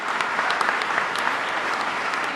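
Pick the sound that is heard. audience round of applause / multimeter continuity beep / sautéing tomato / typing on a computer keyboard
audience round of applause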